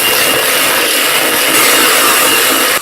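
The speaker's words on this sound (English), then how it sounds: "take the egg yolks and put the castor sugar on top and whisk it to what's called the ribbon stage" Egg yolks and caster sugar being whisked toward the ribbon stage give a loud, steady whirring and scraping that runs unbroken from start to finish, with no talking.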